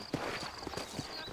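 Horses walking in the Red Dead Redemption video game, a few soft hoof clip-clops at an uneven pace, faint and in the background.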